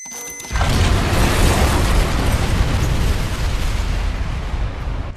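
A big explosion in the video game Dead Rising Deluxe Remaster bursts in after half a second, then a loud sustained rumble and roar holds for several seconds, alone with no talk.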